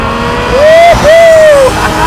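A twin-turbo Ferrari 348 Challenge race car accelerates hard toward its 8,900 RPM red line, the engine note climbing loudly, dipping at a brief shift, then rising again, close and dominant with a voice underneath.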